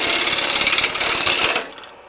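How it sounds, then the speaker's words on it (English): Bowl gouge cutting a cherry wood bowl on a lathe, a steady close scraping hiss of the cut for about a second and a half, then fading out. "We're just driving that bowl gouge through with the end of the handle"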